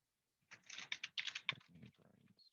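Close, brisk typing on a computer keyboard, a quick run of crisp key clicks lasting about two seconds after a short silence, with no talking.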